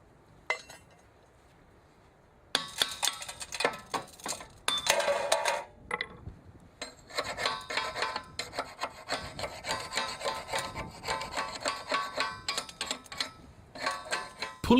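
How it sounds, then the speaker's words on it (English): Slag residue is scraped and rubbed off a rail weld with a hand tool. Rough rasping strokes arrive in quick, uneven bursts after a quiet start, with occasional metallic clinks. "Now slag residues have to be removed."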